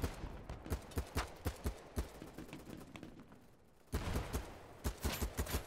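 Rapid gunfire in BattleBit Remastered rattles out in close, loud bursts of evenly spaced shots, stops for a short pause, then starts again just as heavy.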